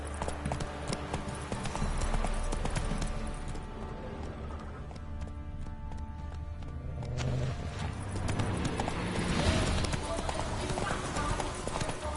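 Hooves clip-clop steadily as a horse gallops in The Witcher 3, a continuous rhythmic pounding mixed with game ambience and music while someone talks over it.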